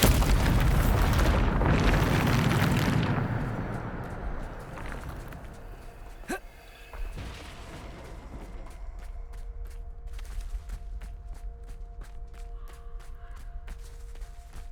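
Bombarda blasting spell cast in the video game Hogwarts Legacy, a loud roaring explosion that fills the first few seconds and then fades into a quieter rumble with a sharp crack and scattered pops.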